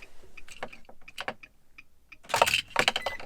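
Car keys jangle in the ignition of a Nissan Armada during key programming, a few close, bright metallic clinks and rattles in short bursts separated by near silence.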